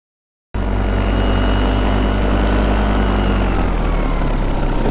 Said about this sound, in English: I said, I'm gonna go full throttle here